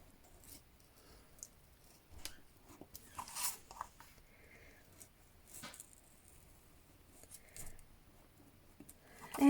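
Scissors cut paper on a cutting mat during a simple bird craft project: quiet, close, irregular snips and crisp rustles spread across the stretch, with no voices.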